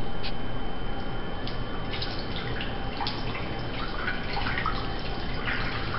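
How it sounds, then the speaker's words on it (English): Hot water poured from a container into a Pyrex baking dish around ramekins for crème brûlée, giving a steady close trickling and splashing with small drips throughout, without any talking. "Take the hot water and pour it around the ramekins."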